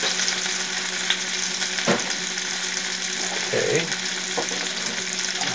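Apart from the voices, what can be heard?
onions cooking in a lot of oil for migas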